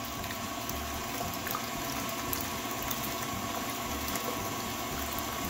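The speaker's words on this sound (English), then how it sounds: "I'm going to go ahead and turn the mixer up just one." Electric stand mixer whipping eggs into a foam for a rice mousse, a steady even whirring hum with faint liquid churning, held at one low speed with no talking.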